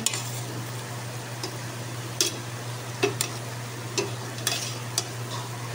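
A spoon stirs food in a cooking pot, with soft scraping and clinking taps at an irregular pace over a low steady hum, close and moderately loud.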